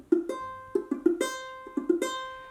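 Repeated strums of a ukulele bar chord with strings not pressed down hard, giving a muted, buzzy tone; several short strums in an uneven rhythm, close and clear, with no talking.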